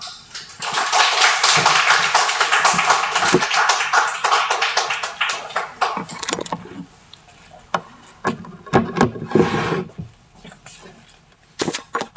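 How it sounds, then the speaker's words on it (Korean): Audience applause welcoming a pastor to the front at a church talk, dense steady clapping for about six seconds that then thins into scattered claps and fades out. "우리 박수로 환영하도록 하겠습니다."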